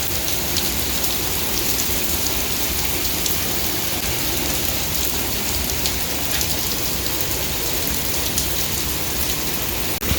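Heavy rain pours down in a dense, unbroken hiss, loud and close, drumming steadily on surfaces throughout.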